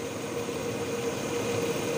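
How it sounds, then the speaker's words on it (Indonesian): BMW E36 320 engine idling smoothly, a steady, even hum with a constant low drone and no changes in level. "Kalau untuk secara keseluruhan ini mesin terdengar suaranya halus"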